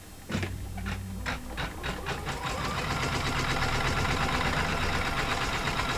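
Several embroidery machines stitching together, a fast mechanical chattering that starts with a few distinct knocks and settles into a steady, loud, continuous whir close by.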